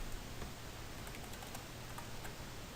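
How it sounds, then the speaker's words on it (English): Light, quick keystrokes on a computer keyboard tap faintly and unevenly under a steady hiss of background noise. "So I'm just going to type in template"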